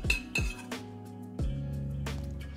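A metal spoon clinks sharply against a pan while a red wine sauce is tested, several bright, ringing strikes spaced irregularly with short decays, close and clear with no talking.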